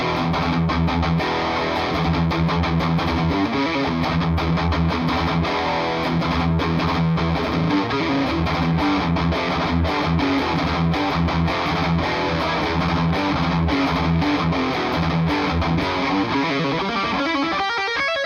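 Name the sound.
electric guitar through Blackstar HT-5RH amp, full gain, ISF on US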